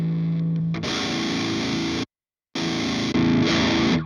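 An ENGL Artist 100 amplifier on its low-gain channel pushing an overdriven electric guitar: loud sustained chords ringing out, a short silence, then more chords with no talking.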